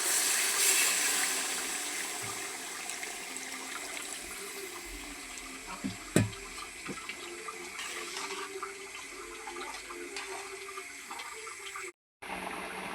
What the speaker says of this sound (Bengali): গরম পানিটা ঝোল দিয়ে দেবো।